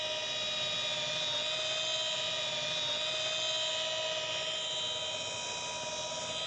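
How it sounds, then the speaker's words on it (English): Rotary polisher spinning steadily during car paint correction, a continuous even mechanical whir with a high tonal whine, moderately loud and unbroken. "when you're using a rotary polisher"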